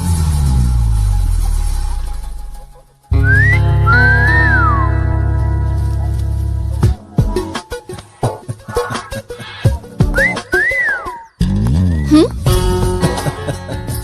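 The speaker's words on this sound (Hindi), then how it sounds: "सीटी बजाना आती है कि नहीं, वही देख रहा था" A person whistles in a scene from an Indian action film, producing short rising and falling phrases. Each tone is clear and close, broken by pauses and other vocal and handling sounds.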